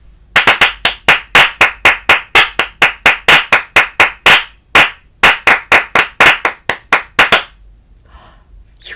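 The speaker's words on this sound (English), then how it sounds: "Think the words in your head and just clap the syllables out loud" Sharp hand claps beat out spoken-word syllables in an uneven rhythm, around two dozen loud, close claps with short gaps, stopping near the end into near silence.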